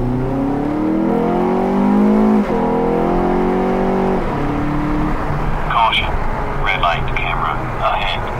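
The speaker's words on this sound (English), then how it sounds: "Here's the intake sound." An Acura or Honda engine with an aftermarket intake and stock exhaust revs up loudly through its intake, rising in pitch, then dropping back, with a few lighter revs trailing off near the end.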